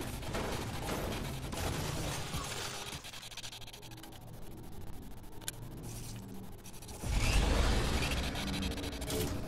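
Bursts of rapid gunfire from the video game Fortnite in John Wick mode, dense and continuous across the clip, with a louder surge of shots near the end.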